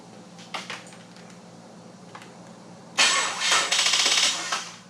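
The EcoBoost engine in a rear-wheel-drive swapped Ford Fusion starts for the first time. After quiet clicks, the engine cranks and fires near the midpoint, then runs loud and close with an uneven, revving idle.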